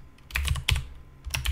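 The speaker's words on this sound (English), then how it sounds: "so I can just start typing immediately here" Keystrokes on a computer keyboard come in short clustered bursts of clicks and clacks at close range, with brief pauses between runs of keys and no voices.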